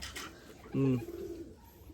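A single small male racing pigeon coos once, close and clear, a soft throaty rolling call over a faint background hum.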